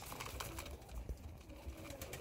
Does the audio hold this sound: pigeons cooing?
yes